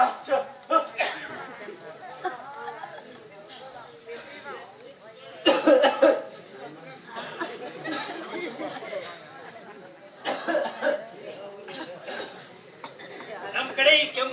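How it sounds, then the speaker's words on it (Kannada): Several coughs and throat-clearing bursts break out amid lively group chatter and a chuckle during a Kannada stage play, coming in loud clusters at intervals over the talk. "ನಮ್ ಕಡೆ ಈ ಕೆಮ್ಮು ಕಾಲಿಂಗ್ ಬೆಲ್ ಹಾಗೆ."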